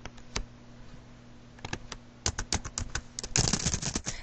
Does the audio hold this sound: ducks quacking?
no